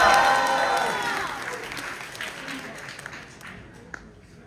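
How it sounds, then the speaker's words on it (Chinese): Warm audience applause at a crosstalk performance at Deyun Society's Tianqiao theatre, loud clapping at first and then fading away over several seconds, with a short whistle-like tone at the start. "谢谢大家伙儿这么热情的掌声"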